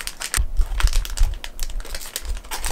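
A Christmas present being unwrapped close up, with loud crinkling and tearing of wrapping paper in quick continuous bursts and no voices.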